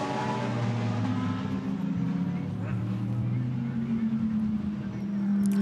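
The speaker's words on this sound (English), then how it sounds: "number 12 car is going again as well, Rick Lovett." GT race car from the Blancpain GT Sports Club at Barcelona circuit, engine droning steadily at sustained revs throughout, with a commentator talking over it.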